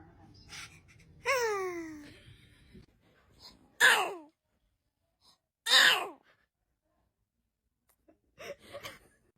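A one-month-old newborn baby sneezes several times, small sharp bursts spaced a couple of seconds apart with soft breaths and whimpers between, close and quiet, with adults speaking softly nearby.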